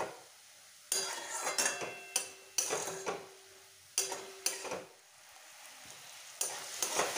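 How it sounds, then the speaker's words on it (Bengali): Vegetables stir-frying in a hot pan for chicken Manchurian, with a steady sizzle broken by repeated bursts of scraping and tossing from a spatula, close and fairly loud. "দিয়ে এই সবজিগুলো খুব ভালোভাবে একটু ভেজে নেব"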